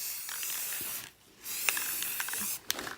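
Paint sprayed onto artwork from a spray bottle: two sustained close hissing bursts separated by a short pause, with a few small clicks of the nozzle.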